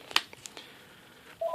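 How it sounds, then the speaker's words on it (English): A mobile phone gives a few short, bright electronic tones close by, then a steadier beep near the end, over a quiet background. "Yeah, that's my phone."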